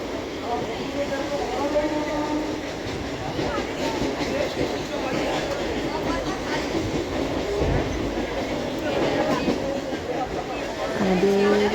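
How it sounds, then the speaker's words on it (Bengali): A moving train on the way to Uluberia, heard from inside as a continuous rumble with rhythmic rattling and clatter that holds steady throughout, and a brief squeal near the end. "ট্রেনে করে যাচ্ছি তো উলুবেরিয়ায় যাবো"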